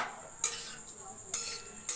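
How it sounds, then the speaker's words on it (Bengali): Boiled potatoes are stirred into spice masala in a pan, giving three short metallic scrapes and clinks of a utensil against the pan about a second apart, with quieter scraping between, close and moderately loud. "আমি এবার সিদ্ধ করা আলুগুলো আস্তে আস্তে মশলায় ছেড়ে দিচ্ছি, দিয়ে ভালো করে মশলাটাকে দিয়ে আলুগুলোকে মিক্স করে দিচ্ছি।"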